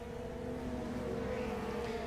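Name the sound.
race car engines in a racing video game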